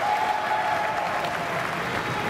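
Steady, full applause from a squash tournament crowd at the 2015 Tournament of Champions greets a winning shot, a sustained wash of clapping throughout with a faint tone running beneath.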